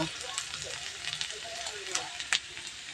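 Pointed gourd peels fry in a pan with a close, steady crackling sizzle and scattered sharp pops.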